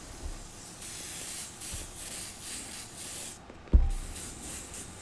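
An airbrush sprays paint onto Air Force 1 sneakers, giving a soft, steady hiss in short pulses up close, with a couple of dull knocks in between.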